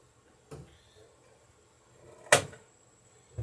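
Metal burrs knocked onto copper rivets on a wooden dory plank, heard as a few sharp, separate hammer taps spaced apart in a quiet workshop, the middle strike loudest.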